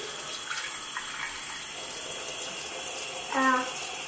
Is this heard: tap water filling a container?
yes